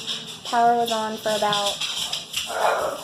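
Two dogs, the speaker's and her grandma's, barking and whimpering indoors at close range in a couple of harmonic bursts, with someone talking over and between them.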